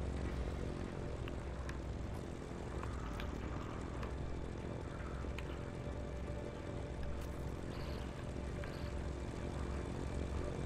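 A propeller airplane engine in the video game Just Cause 3 drones steadily and loudly for the whole stretch, a continuous dense hum with faint clicks and knocks over it and no talking.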